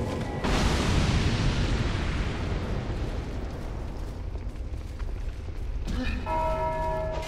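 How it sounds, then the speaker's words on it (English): A bell in the Dark Souls 2 Undead Crypt is struck, giving a loud booming clang that rings out and decays, followed by a second strike with a clear metallic tone near the end. "You were hitting the bell this entire time?"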